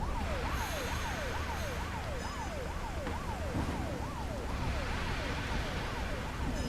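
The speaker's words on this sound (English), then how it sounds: "The ambulance will take care of it." An ambulance siren in an American Truck Simulator-style driving game wails in a steady rising-and-falling cycle over constant engine and road noise, moderately loud throughout.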